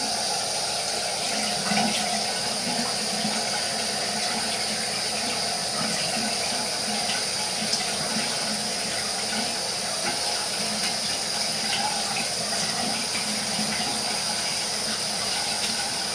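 Water running steadily from a tap into a sink while a face is wetted before shaving, a continuous close hiss and splash with no clear breaks and no talking.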